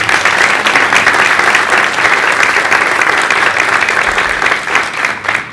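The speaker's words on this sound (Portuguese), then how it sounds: "também merecem uma salva de palmas" Sustained, dense audience applause fills a hall at an association inauguration ceremony, steady and loud throughout without speech.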